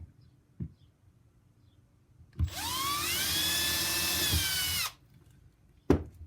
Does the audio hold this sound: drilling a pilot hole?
yes